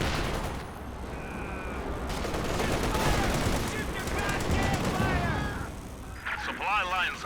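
Rattling machine gun bursts and other battle fire in a Company of Heroes 2 match, with shots crackling repeatedly over a busy battlefield, a caster's voice talking over the action.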